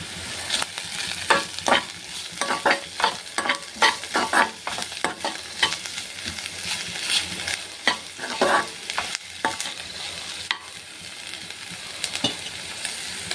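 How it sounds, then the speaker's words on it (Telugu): Onions with ginger-garlic paste frying in a pan for a paneer curry, a steady close sizzle broken by repeated sharp scraping strokes of a stirring spoon, with no talking. "ఆనియన్స్ వేసుకొని ఫ్రై చేసుకోవాలండి."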